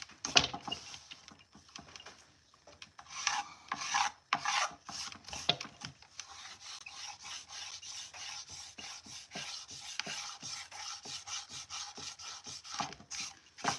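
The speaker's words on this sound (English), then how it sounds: "Just gonna scrape a little bit." Scraper rasping old paint off a thrifted wooden furniture piece, a close run of repeated scratchy strokes in quick irregular rhythm, steady throughout with no talk.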